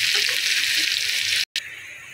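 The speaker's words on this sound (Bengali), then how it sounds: "এবার এই তেলেই পেঁয়াজ কুচি দিয়ে দেবো। পেঁয়াজটা হালকাভাবে ভেজে নিই।" Chopped onions fry lightly in oil left in the pan after fish heads were browned, giving a steady broad sizzle with a brief cutoff near the end.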